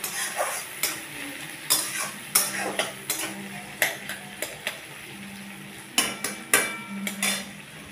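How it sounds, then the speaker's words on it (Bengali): Onions and tomatoes frying in a pan for fish-egg jhaal, a soft sizzle under repeated sharp scrapes and knocks of a spoon stirring against the pan, irregular and close. "ভালো করে আমি টমেটোগুলো, পেঁয়াজগুলো আর একবার একটু ভালো করে ভাজা ভাজা করে নেব।"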